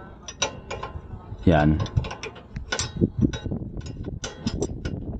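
Ratchet wrench tightening a front sway bar link on a motorcycle, a run of quick metallic clicks and rattles close by, with someone speaking briefly over the work.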